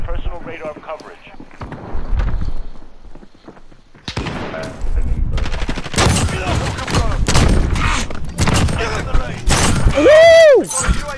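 Rapid video game shotgun and pistol fire, a series of loud, sharp blasts clustered in the second half with a brief gap before them and an excited voice talking over the shots.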